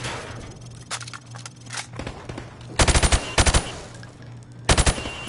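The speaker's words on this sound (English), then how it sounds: "I want you to shoot the targets through the wood." Rapid gunfire bursts loud and close in the Call of Duty Modern Warfare Remastered shooting range, rounds punching through thin plywood targets, with three tight clusters of shots after quieter handling clatter and a low steady hum.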